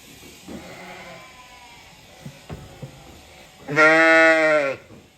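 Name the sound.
sheep bleating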